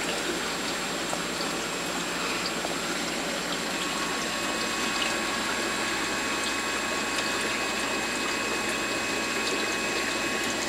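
Steady, even rush of water circulating in a reef aquarium, the return pump pushing flow through the tank's return nozzles, close and continuous with a faint mechanical hum underneath and no talking.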